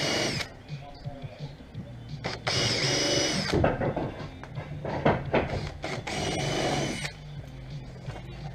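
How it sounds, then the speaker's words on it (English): A power drill pre-drills timber on a carport frame before stainless steel screws go in, several loud bursts of whirring with pauses between, someone talking over parts of it. "I'm going to pre-drill it and use some stainless steel screws"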